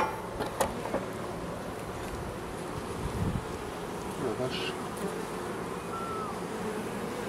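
Honeybees buzzing in front of the hive entrance, a dense and steady swarming hum with individual bees whizzing close past now and then.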